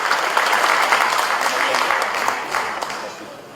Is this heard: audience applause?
yes